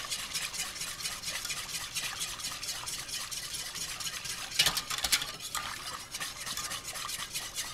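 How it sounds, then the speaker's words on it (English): A whisk beats milk into a roux for spicy mac and cheese, making rapid, continuous scraping strokes against the pan with a couple of brief sharp clinks midway. "Keep whisking"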